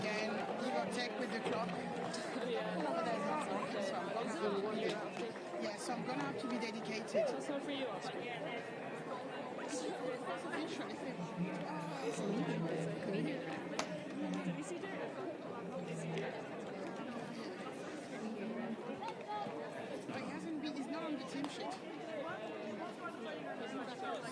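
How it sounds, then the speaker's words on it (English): A rugby crowd at an AIL match between Old Belvedere and Blackrock murmurs and chatters from below, a steady distant babble of many voices building gently without clear cheers. "you can hear the crowd getting going down below"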